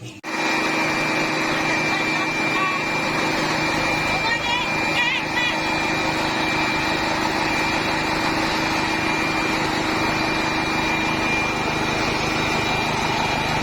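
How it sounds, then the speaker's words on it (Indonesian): A grinding machine mills dried slices of gadung yam, giving a loud, steady high-pitched motor whine with a constant mechanical roar that continues for the whole stretch. "Ini irisan gadung yang sudah kering, yang dikeringkan selama 2 hari dan siap untuk digiling dengan mesin penggiling"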